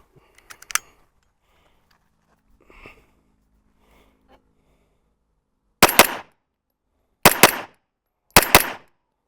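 Three loud, sharp pistol shots fired at a 5-yard target with a deliberately changed grip, evenly spaced after a mostly quiet stretch of faint handling noises.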